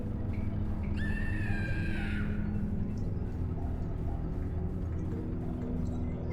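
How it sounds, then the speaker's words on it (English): A terrified scream rings out near and loud for about a second, then breaks off, leaving a steady low rumble that runs on through the rest of the clip. "Screams repeating over and over."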